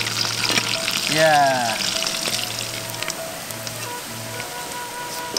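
Tempeh fries in hot oil in a pan, a constant close sizzle with crackling, while a voice briefly speaks over it.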